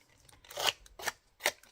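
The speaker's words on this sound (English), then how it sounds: "you can just use your scissors and go along like that" Scissors snip through card during handmade card making, three separate crisp cuts close to the listener at an even pace, with no talking.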